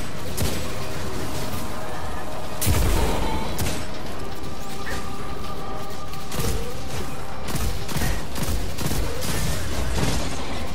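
Destiny 2 firefight with hand cannon shots and other weapon fire: sharp single reports and crashing impacts over a dense, continuous battle din.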